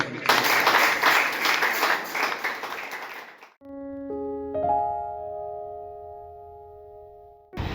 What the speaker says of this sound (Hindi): आइए एक जोरदार उत्तम ताली केवल प्रभु यीशु मसीह के लिए हम बजाएंगे